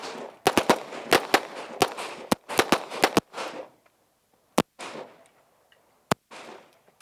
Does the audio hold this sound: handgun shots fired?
yes